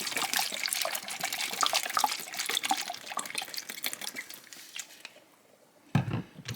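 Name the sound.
soy sauce poured into a plastic bag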